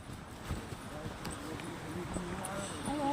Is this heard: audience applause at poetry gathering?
no